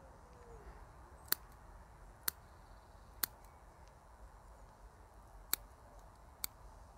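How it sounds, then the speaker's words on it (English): Scissors cut raffia loose from a big broom in five sharp, isolated snips spaced about a second apart over a very quiet background. "I'm gonna get rid of that and then cut the raffia loose."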